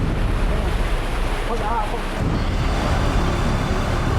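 Continuous roar of ocean surf and swelling waves during a super typhoon in the Philippines, buffeted by heavy wind noise on the microphone, loud and unbroken throughout.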